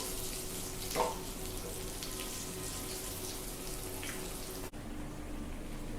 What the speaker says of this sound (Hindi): हाई टू मीडियम फ्लेम पे फ्राई करेंगे।